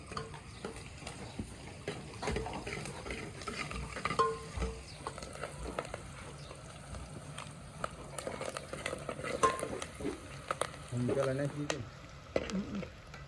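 Onions fry quietly in a pan for a village-style green moong curry, a soft continuous sizzle with light utensil clicks and scrapes, while faint voices murmur in the background.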